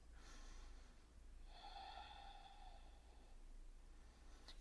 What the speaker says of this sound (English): So nice, loud breathing through the nose.